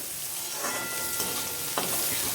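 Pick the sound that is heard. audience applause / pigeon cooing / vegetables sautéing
vegetables sautéing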